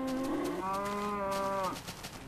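A cow moos in the Minecraft video game, a single drawn-out low call with a clear tonal pitch that shifts upward partway through, loud and close, with no talk over it.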